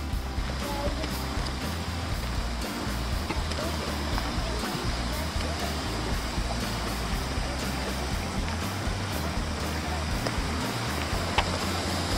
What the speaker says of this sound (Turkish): Bir adet dere.